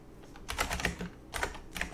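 Computer keyboard keys tapped in a few quick clustered bursts, close and moderately quiet, with short pauses between the groups of keystrokes and no speech.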